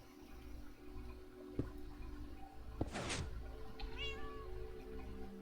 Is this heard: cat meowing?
yes